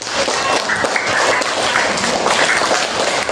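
A school class claps for itself, a brief burst of dense, loud applause that runs steadily throughout with no voices over it.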